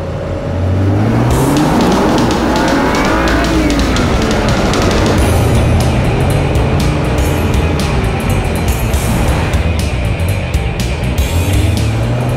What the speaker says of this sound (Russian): самое главное, это, конечно, этот звук двигателя.